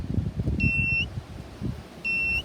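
A metal detector's pinpointer gives two clear electronic beeps on a target, the second a few seconds after the first, over low handling noise outdoors.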